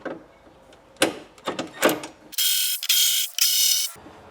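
Ratchet clicks in several quick bursts while bolts come out of a Pontiac G8 window regulator, a close, bright rapid ratcheting after a few lighter taps and handling knocks.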